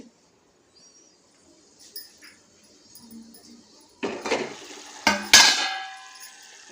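Kitchen utensils and pots clatter in a home kitchen, with a few soft knocks at first and then several loud, close metallic clanks and rattles bunched near the end.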